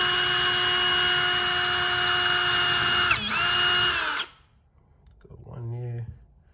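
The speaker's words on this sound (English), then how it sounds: "So let's try to make that level. You know, pre-drill, don't go too far." A power drill whines loudly and steadily while pre-drilling a storm door frame, with a brief dip mid-run before the motor cuts off, followed by a short rattle and a voice speaking.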